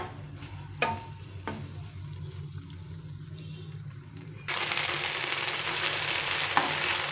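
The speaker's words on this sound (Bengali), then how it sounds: "ভালো করে ফ্রাই করে নিতে হবে এগুলো।" Momos sizzle and fry in a pan, a steady crackle with occasional stirring clatter that grows noticeably louder and brighter midway as the frying intensifies.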